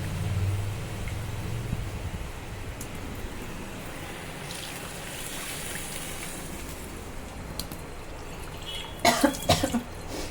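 A person coughs in a kitchen while spices are fried. A short, loud cluster of coughs comes near the end against quiet background noise.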